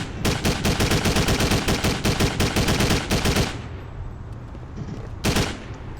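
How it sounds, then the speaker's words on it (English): Rapid bursts of game gunfire from Driv3r on PC, loud dense volleys of shots for about three seconds, then a lull with lingering echoes and one more sharp burst near the end. "Took a lot of shots to kill these guys"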